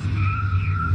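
Car tires skidding in a brief, loud, close screech with an engine rumble underneath, used as a sound effect in a radio advertisement for a car garage.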